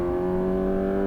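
A Honda CB1000R motorcycle exhaust gives a steady loud drone held at constant pitch for about a second, a close exhaust note with no talking.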